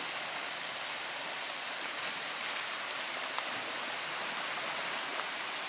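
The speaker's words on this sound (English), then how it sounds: "There's a small waterfall." Steady rushing hiss of a small waterfall on Grand Island, Lake Superior, Michigan, constant and fairly close, with no other sounds.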